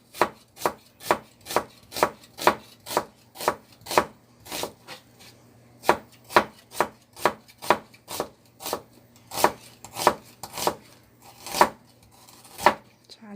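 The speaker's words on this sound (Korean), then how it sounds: "먼저 어, 양파를 반쪽을 먼저 썰어 보도록 하겠습니다. 최대한 얇게 썰어 주세요." A knife slices half an onion as thinly as possible on a cutting board, producing a steady run of about twenty crisp, close chopping strokes at an even rhythm.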